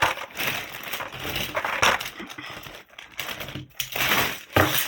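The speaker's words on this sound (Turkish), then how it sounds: "Bu poşeti şimdi aşağı koyuyorum" Plastic bag crinkling and rustling up close as it is handled and put down, set among boxed toy cars such as Matchbox models, a continuous crackly rustle with no talking.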